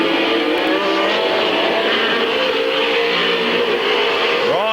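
A pack of super late model race cars roars at the green flag, their engines rising together into a loud, dense, sustained howl at a 1996 Midvale Speedway oval race, with a sweep of one car rising in pitch at the end.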